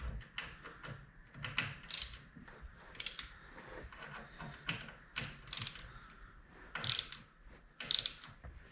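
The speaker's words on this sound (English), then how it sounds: "Basically hand tight with that ratchet." A hand ratchet clicks in short repeated bursts while bolts are snugged down on a Harley-Davidson Dyna Wide Glide during a reduced-reach kit install, close and fairly quiet with brief pauses between strokes.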